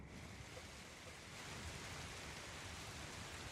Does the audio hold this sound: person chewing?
no